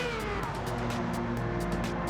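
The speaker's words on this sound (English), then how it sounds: "Denz's car sounds fantastic." A Ferrari race car in Gran Turismo 7 screams at high revs at Monza, its engine note rising through gear changes with a steady roaring drone, close and continuous.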